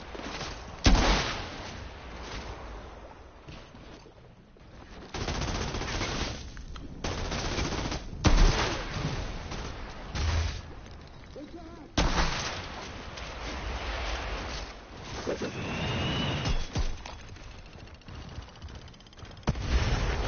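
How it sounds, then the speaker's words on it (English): Gunfire and grenade blasts from the video game Outriders crack out in repeated loud bursts and sharp impacts, with rapid automatic fire between heavier booms throughout. "Make sure you evade these grenades because they are deadly."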